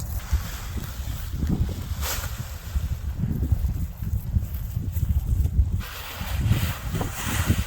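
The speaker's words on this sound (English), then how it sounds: "it's a windy day today" Strong wind buffets the microphone outdoors while a paraglider wing is kited, in a steady, gusting roar with a low rumble throughout, and no voices.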